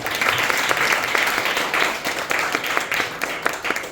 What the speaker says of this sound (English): So please put hands together for her. Everybody clap for her.